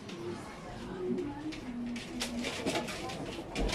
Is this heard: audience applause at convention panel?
no